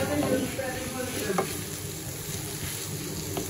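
Fried rice seasoned with black pepper and soy sauce sizzling in a pan over a stove, a continuous close hiss with occasional soft scraping from stirring, no talking heard.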